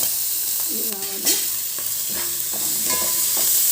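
Fenugreek leaves frying in hot oil in a pan, a steady loud sizzle with a spoon or spatula scraping and stirring in short strokes throughout.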